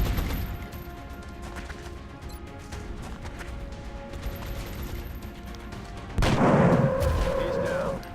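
A soldier's gunshot in the video game XCOM: Long War, a single loud burst with a crashing tail that stands out late over a steady game soundscape.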